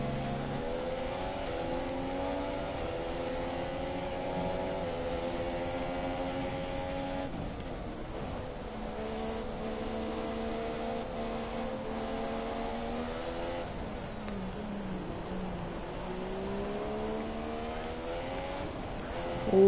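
A McLaren Formula 1 car in the F1 2017 racing game, lapping at Brazil, gives a loud, steady high-revving engine whine whose pitch rises and falls through the gears, with other cars' engines blending in nearby.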